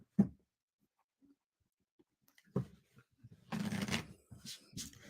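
Playing cards for a solo trick-taking game are shuffled in a few short, crisp riffling bursts, close and clear, with near silence between them and a louder, longer riffle toward the end.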